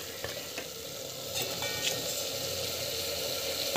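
Brinjal and peas sauté in a pan with a soft, continuous sizzle and occasional stirring scrapes, moderately quiet and without speech.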